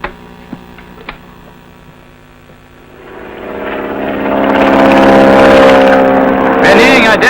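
A propeller plane in a 1942 adventure film, its engine drone rising from a low hum to a loud, sustained roar as the aircraft takes off and flies.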